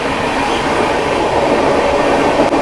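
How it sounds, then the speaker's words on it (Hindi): Sampoorna Kranti Express overtaking the Triveni Express at Vindhyachal Dham, a loud continuous rumble of rolling railcars with dense wheel clatter held close throughout, and no talking. "overtaking Triveni express"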